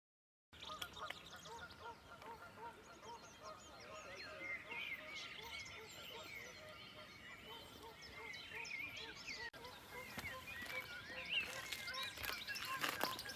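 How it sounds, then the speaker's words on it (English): Geese honk excitedly on a farm during lambing season, a busy chorus that grows louder toward the end, with people talking underneath. "Geese going mad."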